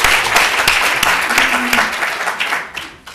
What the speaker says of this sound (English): Are we applauding his achievements or the fact I got it right?